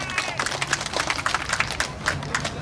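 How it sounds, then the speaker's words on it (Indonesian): An audience at a talk on healthy, happy living in old age claps together, a dense patter of many hands that stays busy and even throughout. "tepuk tangan dulu buat kita semua"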